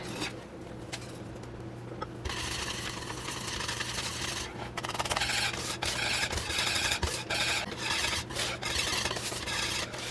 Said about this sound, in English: Let me get a whisk.